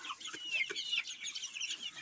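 Young chickens of several breeds cluck and cheep in a dense, continuous chatter, several birds close by with overlapping calls and no one talking.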